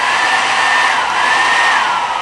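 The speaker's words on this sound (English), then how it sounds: "Then you want to go in with your blow dryer, and I'm like your blow dryer in like a warm setting, not high, warm setting, medium power." A blow dryer runs on a warm setting at medium power while pressing down a lace wig, giving a steady, loud, close whooshing hum with no break and no talk.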